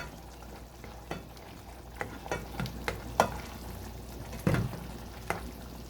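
Minced meat frying in a pan seasoned with oregano, onion powder and salt, a steady low sizzle broken by scattered clicks and scrapes of stirring, close and fairly quiet with no talking.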